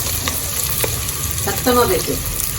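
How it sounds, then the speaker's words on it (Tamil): Chopped onions sautéing in oil in a pot for biryani, with green chillies already added, a steady soft sizzle and occasional stirring scrapes, close and continuous. "வெங்காயம் வெட்டி வச்சதை வதக்குறேங்க"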